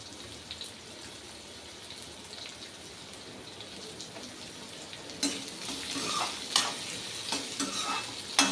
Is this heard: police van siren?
no